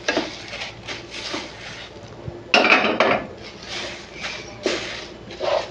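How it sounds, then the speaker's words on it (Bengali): Puffed rice being stirred through hot jaggery syrup in a pan with the gas switched off, giving a continuous dry rustle with scraping and occasional sharper clinks of a spoon against the pan, close up and without speech. "মুড়িটা এর মধ্যে দিয়ে নাড়তে থাকবো"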